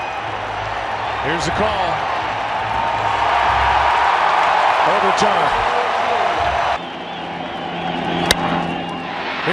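A baseball stadium crowd at a 2016 Chicago Cubs postseason game buzzes loudly and steadily while a replay is reviewed, a broad wall of murmuring and shouts under a play-by-play announcer who talks throughout.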